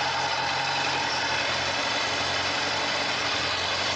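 A Kawasaki ZZR1100 motorcycle engine idles evenly throughout, a continuous mid-low mechanical drone with no change in pitch.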